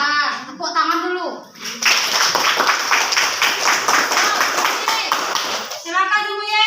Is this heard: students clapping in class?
yes